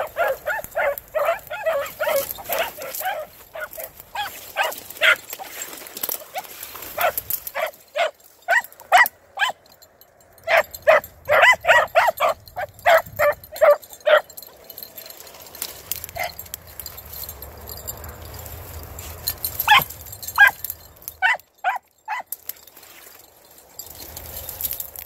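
Several dogs bark in sharp, repeated bursts. The barks are loud and close and come in clusters across the whole stretch, with occasional whimpers and yips and brief quieter gaps.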